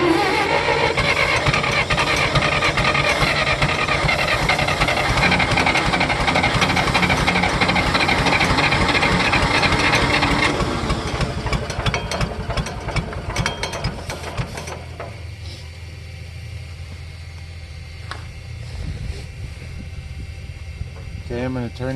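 A John Deere tractor engine cold-starting, a loud, dense mechanical roar for about ten seconds that eases into a steadier, quieter idle, close to the microphone, with no talk over it.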